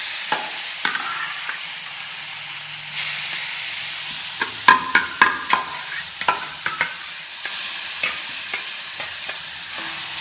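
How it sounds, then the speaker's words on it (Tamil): Elephant yam masiyal paste with green coriander is sautéed in a pan, giving a steady sizzle and frying hiss broken by a run of sharp spatula scrapes and taps against the metal, close and fairly loud with no voices. "நல்லா வதக்கிக்கணும். அதை வதக்கிட்டு கொஞ்சம் பச்சை கொத்தமல்லி போட்டுக்கணும்."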